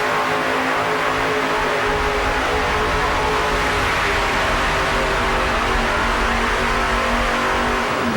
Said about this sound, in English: We saw those big 1471 superchargers on those 3 automotive reciprocating engines